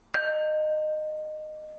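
A stone from a South African stone circle is struck once, giving a sharp hit followed by a clear, bell-like ringing tone that sustains and slowly fades, alone in quiet surroundings.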